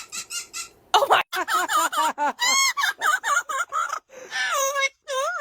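A pet parrot laughing in quick, high, squawky bursts that rise and fall, close and loud, with short gaps between runs of voice-like cackles.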